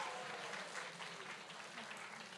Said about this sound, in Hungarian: Nagyon nagy tapsot kérek szépen nekik